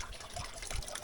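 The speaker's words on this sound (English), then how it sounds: "Oh wow, we have found a little stream here." A small mountain stream trickles in the Austrian Alps, giving a steady, close, broadband wash of running water with no talk over it.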